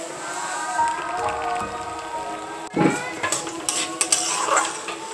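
Khasa rice goes into hot oil in a wok already holding bay leaf and cinnamon: a hissing sizzle with scraping and rustling grains, and one sharp metallic clank partway through.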